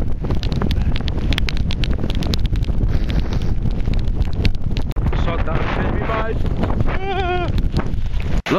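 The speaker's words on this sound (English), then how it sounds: "Sorry if you can't hear me, it's so windy." Strong wind gusts steadily across an open field in the UK during metal detecting and buffets the microphone throughout. A person talks faintly under the wind, and a bleating animal briefly cuts through near the end.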